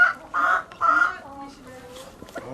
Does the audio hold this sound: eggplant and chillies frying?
no